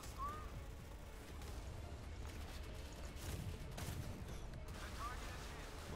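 Rapid heavy gunfire and booming blasts from the TMF 155 naval cannon in the Modern Warships video game form a continuous loud barrage, with a voice speaking over the firing.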